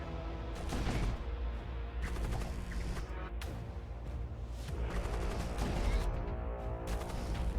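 A siege bombard fires in the Void War spaceship game, repeated booming blasts and rattling bursts of weapon fire in clusters, fairly loud and dense, with no talking.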